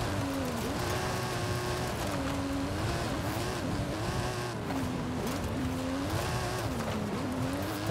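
A Mike Steel stunt vehicle with a revised engine and suspension, driven in Forza Horizon 5, revving continuously at close range with rising and falling engine pitch and hints of tire noise, no voices.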